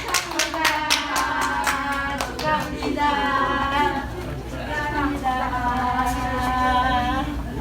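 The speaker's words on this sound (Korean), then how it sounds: "서로 일어나서 서로 쳐다보면서 축하합니다 하고 박수 쳐주세요" An audience of business owners claps in congratulation at the close of a network marketing course, a dense run of sharp handclaps mixed with overlapping talk and chatter, with bursts of applause rising and fading across the room.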